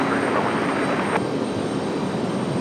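A Breeze Airways airliner departs from Raleigh-Durham airport, its engines giving a steady, broad roar at moderate distance that holds throughout without breaks.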